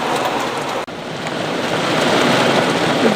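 Heavy rain with some hail pouring down in cold weather, a loud dense continuous roar that swells slightly toward the end, with a momentary dip early on and no speech.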